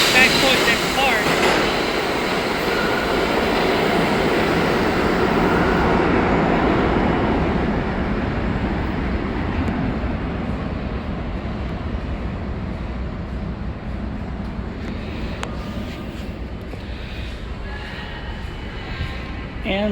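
An uptown 1 subway train rumbles steadily through the WTC-Cortlandt station in New York, a loud, continuous roar that gradually eases over the clip.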